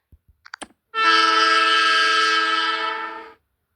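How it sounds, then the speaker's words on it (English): A few faint taps, then a loud sustained train horn ringtone blares for about two and a half seconds before cutting off. "Train horn. 2 seconds."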